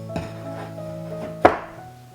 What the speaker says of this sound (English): The dough should slowly but surely detach from the bowl and plop onto the table in one piece